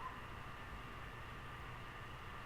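Steady hiss of TV static coming over a phone call in the video game Spirit Hunter: NG, a faint, even, unbroken noise with no pauses or voices.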